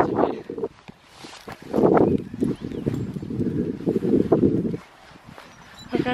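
Horse hooves clip-clop on muddy ground outdoors, a few scattered steps close by under wind noise and rustling.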